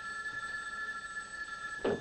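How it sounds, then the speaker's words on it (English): Telephone bell ringing throughout, a steady bright tone persisting for about two seconds in a quiet room, with a brief louder thump near the end. "Is that the phone?"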